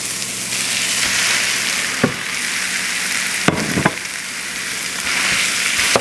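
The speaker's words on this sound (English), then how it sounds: "And I'm gonna add the meat." Ground beef dropped into a hot pan of cooked ingredients hisses in a loud, continuous sizzle, broken by a few sharp scraping clicks of stirring, with no talking.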